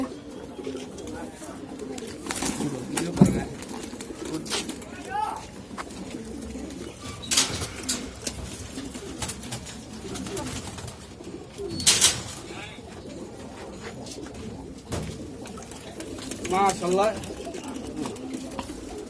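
Pigeons in a loft, cooing softly and intermittently alongside a few chirps and wing flutters, while someone talks over them for much of the time.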